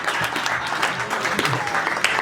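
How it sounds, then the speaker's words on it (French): Audience applause at an association's year-end celebration, a brief burst of dense clapping with voices mixed in underneath. "Applaudissez pour lui."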